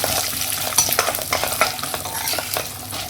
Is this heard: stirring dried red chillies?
yes